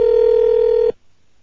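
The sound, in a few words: telephone dialing and ringing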